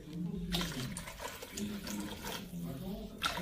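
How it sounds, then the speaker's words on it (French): Water being poured into a sauce in a Thermomix bowl while making seffa medfouna, a splashing, trickling flow under the sound of someone talking nearby. "Donc, on rajoute 200 g d'eau"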